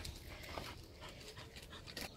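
A dog panting rapidly and steadily close by after an outdoor hike, quick breathy huffs with a few faint whimpers.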